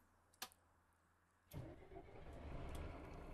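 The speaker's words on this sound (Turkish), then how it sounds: "Böyle aracımızı çalıştıralım." A Mercedes-Benz Citaro O530 city bus engine starts in the OMSI 2 bus simulator on the Beykoz map. A sharp click is followed by a pause, then the engine cranks and catches and settles into a loud, steady idle, with no talking.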